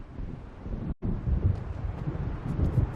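Thunder of an approaching storm in the video game Alan Wake, a low continuous rumble with wind-like roar, moderately loud, briefly cutting out for a moment before rolling on, no voices.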